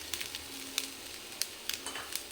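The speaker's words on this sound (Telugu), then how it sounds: "ఇప్పుడు మళ్ళీ ఇందులోనే కొంచెం ఒక 2-3 చుక్కల ఆయిల్ వేసేసుకొని ఈ క్యాప్సికమ్ని కూడా ఫ్రై చేసుకోవాలి" Capsicum frying in two or three drops of oil in a pan gives a soft, steady sizzle with scattered small pops and crackles, faint and close, no voices.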